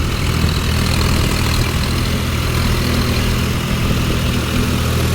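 A John Deere 5050 D 4WD tractor works through mud, its diesel engine holding around 1500–1600 rpm in a steady, loud, close low drone with no other sounds over it.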